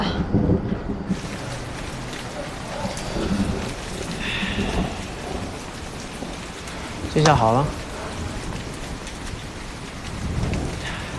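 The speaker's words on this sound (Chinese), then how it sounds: "下雨了" Steady heavy rain pours down throughout with rumbles of thunder, a continuous close wash of noise, while a voice speaks briefly over it.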